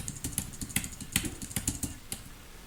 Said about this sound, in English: I'm using the arrow keys to move left and right